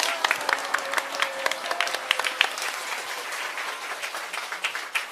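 An audience at a Korean lecture event claps vigorously, a crowded burst of applause with distinct sharp hand strikes standing out, continuing evenly for several seconds.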